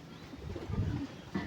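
A pigeon coos softly close by, a few low, throaty warbles in a short quiet burst.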